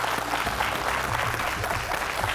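A studio audience breaks into steady, sustained applause after a round winner is announced in a leadership competition show, with a low background hum running beneath the clapping.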